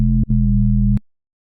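Serum 2 space bass synth patch with ring modulation, soft-clip distortion and compression, a buzzy sustained tone that briefly cuts out after a quarter second, then resumes and stops abruptly at about one second, heard alone.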